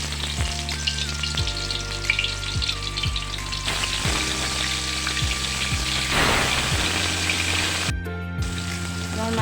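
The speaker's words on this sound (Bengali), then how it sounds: "তেল গরম হয়ে এসেছে, এখন আমি মাছগুলো ছেড়ে দিচ্ছি।" Pieces of rohu fish sizzle and crackle steadily in hot white oil in a kadai, a loud continuous frying hiss with occasional bursts and clinks, close up and without talk.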